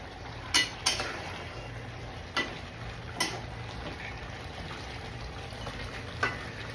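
Beef being sautéed with onion, garlic and ginger paste in a pot: a quiet bed of low sizzling with a handful of sharp spoon-against-pot clacks spaced irregularly as it is stirred.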